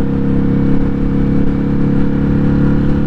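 Engine of a Ducati Hypermotard 950 RVE motorcycle running at steady revs, a loud, continuous low rumble with a smooth, even tone that neither rises nor falls throughout.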